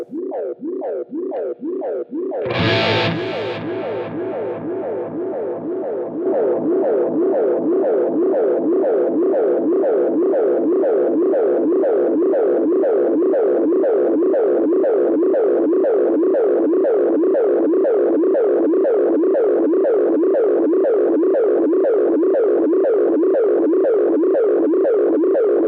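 Electric guitar through a Helix Cosmos tape-style delay with the splice setting turned up: a loud, sustained wash of shimmering repeats that swell and waver in a steady pulsing rhythm, after a bright strummed chord near the start.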